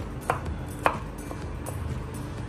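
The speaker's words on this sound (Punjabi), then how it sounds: "ਪਿਆਜ਼ ਆਪਾਂ ਛੋਟੇ ਛੋਟੇ ਕਰ ਲੈਣੇ ਆ" Onions are chopped into small pieces on a cutting board for a paneer sandwich, a handful of sharp knife taps spaced irregularly, close and clear over quiet room noise.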